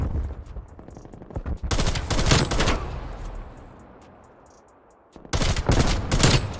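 Automatic gunfire in Call of Duty Cold War, loud rapid bursts in two clusters separated by a quieter stretch of fading echo and background noise.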